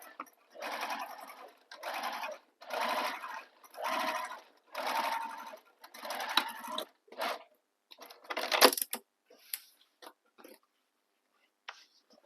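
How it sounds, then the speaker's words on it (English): A sewing machine stitches through several layers of a bag, running in five or six even bursts with short pauses, then a few scattered clicks and taps of handling near the end. "I'm going to stitch through them all"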